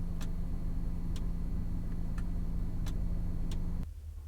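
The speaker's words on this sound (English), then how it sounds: "they make the strangest noise when you cycle through the two different settings. It's this clicking from behind the dash." Sharp, evenly spaced clicks from a relay behind the dashboard of a 2019 Nissan Kicks crossover as its heated seat settings are cycled, about five ticks over a steady low cabin hum that drops away near the end.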